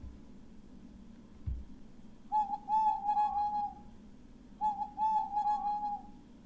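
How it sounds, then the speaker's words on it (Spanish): An owl hoots twice in steady, drawn-out calls with a pause between, clear against a quiet background hum. "Muchas veces había oído ulular a la lechuza."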